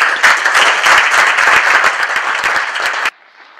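Audience applause welcoming poet Lisa Spaar to a reading: a dense, steady burst of many hands clapping that holds evenly for about three seconds, then cuts off abruptly into near quiet.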